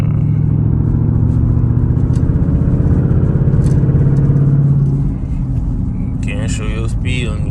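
Car engine rumbles steadily while driving downtown, heard from inside with a low drone that eases off partway through, as people talk over it.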